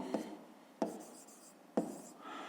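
Pen or marker strokes writing out a math expression for a fifth-grade exercise, three short distinct scratches spaced about a second apart, quiet and close with no talking.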